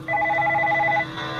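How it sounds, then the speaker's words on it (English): A Parrot MKi9100 hands-free kit fitted in a 2000 Volkswagen Jetta GLS plays a phone's incoming-call ringtone: a loud, steady electronic tone that runs for about a second, then drops to a quieter hum. "But there you got to hear the ringer."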